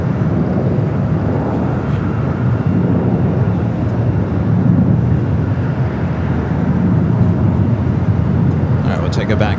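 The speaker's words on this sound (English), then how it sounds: "Again, this flight heading to Atlanta. Taking off there on the north side at 24 left." An Atlanta-bound airliner takes off from runway 24 left on the north side of LAX, a loud continuous broadband engine roar with rumbling low end holding steady throughout, heard alone without talk.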